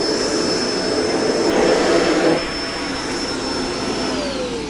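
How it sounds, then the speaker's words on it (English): Kenmore Intuition bagged upright vacuum cleaner running close by, a loud continuous motor roar with a high steady whine that shifts pitch slightly partway through. "this Kenmore Intuition bagged upright vacuum is a really powerful, lightweight vacuum"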